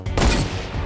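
Rifle fire in the Fortnite video game, a burst of loud close shots that blur together, then a brief decaying tail.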